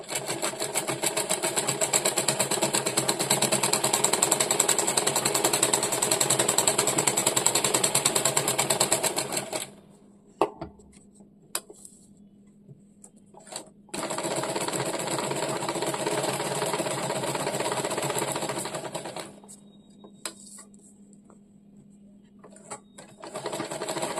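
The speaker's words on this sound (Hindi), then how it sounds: "हम लोगों को सेम ये लाइन के ऊपर से ही सिलाई चलाना है।" A sewing machine stitches along a marked line in a beginner's sewing class: a fast, steady mechanical whirring heard up close, running for several seconds, halting briefly with a few clicks, then starting again for a second long run.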